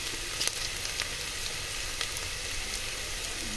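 Ginger paste sizzling in a pan for cabbage curry makes a dense, steady frying hiss with faint crackles, close and even, with no talk.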